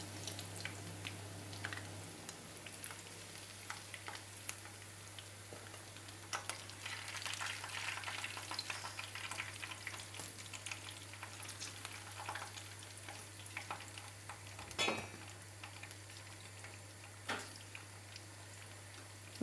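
Semolina taş kadayıf pieces frying in a pan, a soft continuous sizzle with scattered crackles and a few sharper pops, fairly quiet and steady, with no voices.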